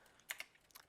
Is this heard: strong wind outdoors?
no